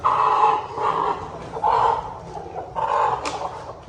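Hen clucking in a backyard coop as she is settled onto a clutch of eggs to brood, with bursts of nasal calls coming in repeated waves over a low murmur of background noise.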